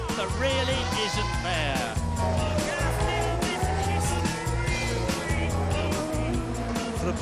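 Michael Schumacher's Ferrari Formula One car on a 1999 San Marino Grand Prix qualifying lap, its high-pitched engine wailing as it rises and falls through rapid gear changes, loud and continuous.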